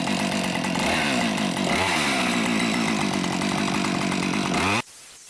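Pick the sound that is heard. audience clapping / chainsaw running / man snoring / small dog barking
chainsaw running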